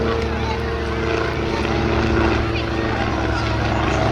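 Propeller aircraft flying in close formation, one stacked above another in a 'bunk bed' pass at the Midlands Air Festival, give a steady, loud engine drone with a throbbing hum throughout, while a voice talks over it.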